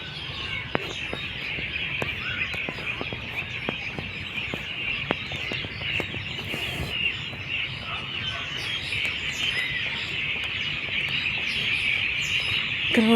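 Birds chirp and tweet continuously at a waterfront, a dense chorus of high calls with scattered sharp notes, moderately loud and steady throughout.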